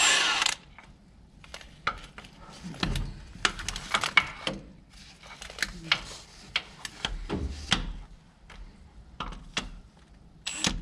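Hand tools working loose the bolts on a transmission bell housing, giving scattered metallic clicks, ratchet ticks and clanks at close range in short irregular bursts with pauses between, with no talking.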